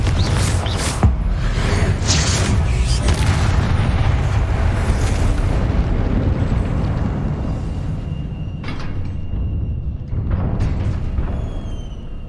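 A blasting fire spell bursts in the Hogwarts Legacy video game, a loud booming explosion followed by a long rumbling roar and debris crackle, then fading with a few smaller pops.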